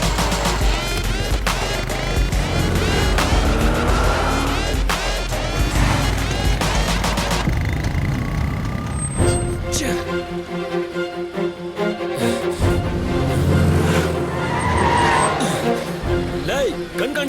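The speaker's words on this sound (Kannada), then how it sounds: "ಈ ಹಂಪ್ ಮೇಲೆ ನನ್ನ ಗಾಡಿ ಹತ್ತಿಸ್ಲೇಬೇಕು." A car is driven up over a road hump in a film scene, its engine rumbling and tyres thumping, with a dense soundtrack underneath and the sound thinning out partway through.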